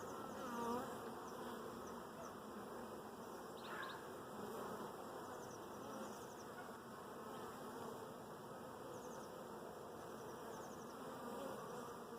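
Steady, dense buzzing of many bees close by, continuous throughout with no talking.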